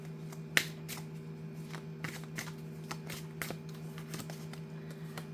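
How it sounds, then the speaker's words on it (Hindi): Tarot cards being shuffled during a reading, with repeated quick riffling bursts and soft snaps at irregular intervals over a steady low background hum, close and fairly quiet, no talking. "और कार्ड्स निकाल लेते हैं।"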